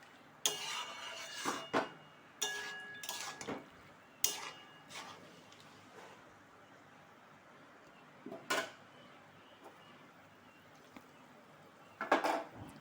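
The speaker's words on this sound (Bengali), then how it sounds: "ভালো করে মিশিয়ে নেব।" A utensil stirs boiled banana flower with water in a cooking pan, making intermittent scraping and clinking strokes in scattered bursts, fairly close with quiet gaps between.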